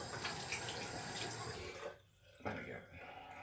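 Tap water runs faintly into a sink for washing with soap, a steady hiss that briefly drops away before flowing again.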